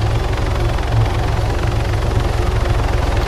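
A helicopter flying in Arma 3 gives a loud, steady, close rotor thump and engine drone that fills the whole stretch, with no talking over it.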